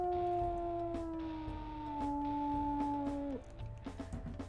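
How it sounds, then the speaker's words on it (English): A long, sustained wolf howl from the video game WolfQuest Anniversary Edition, with smooth wavering pitch, glides slightly downward, then breaks off, over a low background hum. "I love this howl."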